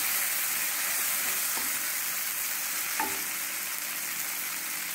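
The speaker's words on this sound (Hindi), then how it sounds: "इसको टमाटर गलने तक हम पकाएंगे" Tomatoes frying in masala in a pan over low heat make an even, close sizzle that holds steady, with a couple of light utensil taps.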